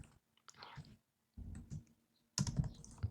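Quick bursts of computer keyboard typing and clicks come in three short runs separated by pauses, close and fairly clear while writing Python code, with no talk over them.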